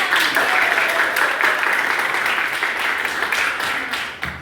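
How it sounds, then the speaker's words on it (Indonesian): Students in a classroom clap together in a sustained burst of applause, a close and lively patter of many hands that thins out slightly toward the end. "Tepuk tangan."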